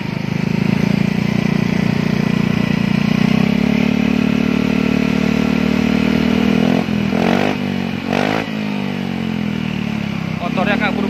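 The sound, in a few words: Yamaha Mio Gear 125 scooter with SKR Racing exhaust revving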